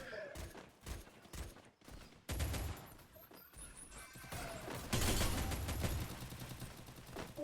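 Gunfire from a first-person shooter game, sharp bursts of shots in quick succession, loud and close, building into a dense, sustained volley toward the end with no voices over it.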